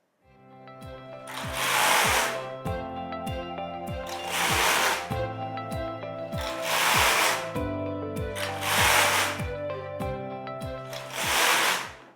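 A Singer Solo hand knitting machine knits a sock: the carriage is pushed back and forth in repeated loud, swishing mechanical passes, each lasting about two seconds, with sharp clicks and rattles between them, no talking.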